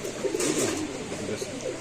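Pigeons, including a pair of racing pigeons, coo softly with low repeated murmurs in a steady burble, close by with no voices over them.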